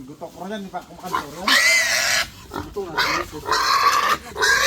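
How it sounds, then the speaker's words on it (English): A pig at a rural fiesta in a Philippine province grunts and squeals in several loud, close bursts, with people talking around it. "Hey, little pig."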